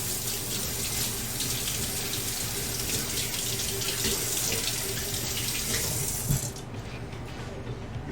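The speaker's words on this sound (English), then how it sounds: "I'm gonna add a little water in there." Water runs steadily from a kitchen tap during steak and potato chip cooking, a continuous close splashing flow that cuts off sharply near the end, leaving quiet room tone.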